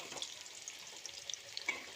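Potato pieces frying in hot oil for a meat curry, a steady soft sizzle with small crackles and pops, close and fairly quiet with no talking.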